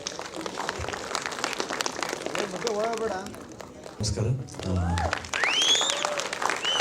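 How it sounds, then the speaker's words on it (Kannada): An audience claps loudly at a Kannada film title launch event for Loose Mada Yogi's 50th film, a dense patter of applause mixed with a voice speaking over it and crowd noise. "ಒಮ್ಮೆ ಜೋರಾದ ಚಪ್ಪಾಳೆ"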